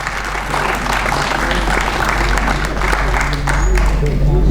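Applause from an audience at a mushaira poetry gathering, a steady wash of clapping across a crowded hall with a loud low hum of amplification underneath and voices talking over it.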